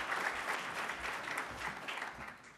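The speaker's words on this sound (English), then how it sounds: "Please give him a big round of applause." Audience applause for Congressman Yarmouth at the launch event, a steady dense clapping from a crowd that fills the room and carries on evenly, loud and sustained throughout with no voices over it.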